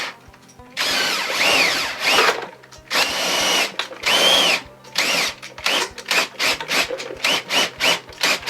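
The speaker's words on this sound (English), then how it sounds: "I'm going to hook my drill up to stepper motor shaft again" Power drill driving a 3D printed gearbox through a stepper motor shaft, whirring in long bursts then short rapid pulses with gear grinding, loud and close throughout.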